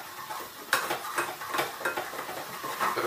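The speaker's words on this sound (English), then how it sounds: "Gotta keep that moving around the pan so that those crispy bits blend in and we don't end up with a bunch of burnt on cheese" Crispy cheese being stirred around a pan, a steady run of close scraping and soft sizzling strokes repeating every half second or so, with no voices.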